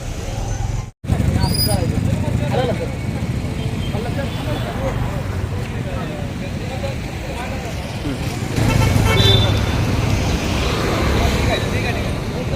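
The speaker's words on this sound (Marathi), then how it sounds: "गाड्या बघा गाड्या बघा" Road traffic passing near a street protest, a steady rumble of cars and buses with a few short horn toots, a surge of engine noise near the end, and voices talking throughout.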